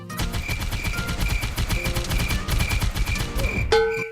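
Rapid automatic gunfire in the Roblox War Simulator video game, a dense, steady burst of shots rattling on for several seconds before ending in a sharp final blast with a ringing tail.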